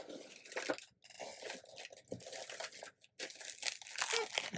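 Tape is pulled from a roll and pressed onto the backs of paper pieces, making close, quiet crinkling and tearing sounds in irregular bursts with short pauses between them.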